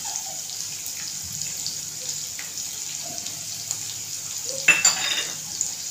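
Crushed garlic sizzles quietly in hot oil in a pan while besan zunka is being made, a soft steady frying hiss with a few stirring clinks and a louder scrape toward the end.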